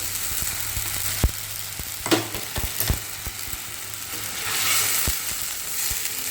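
Ginger and green chili paste hits hot oil in a pan and fries with a steady sizzle, while a spoon scrapes and taps through it in several distinct strokes, close and fairly loud.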